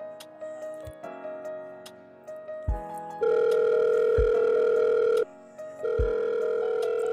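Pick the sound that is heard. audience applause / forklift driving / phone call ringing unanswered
phone call ringing unanswered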